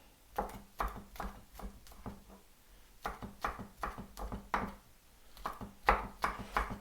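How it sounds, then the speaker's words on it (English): Garlic being rough cut with a knife on a board: a run of quick, sharp chops in steady bursts, with a brief pause partway through, close and fairly loud with no talking. "Rough cutting the garlic"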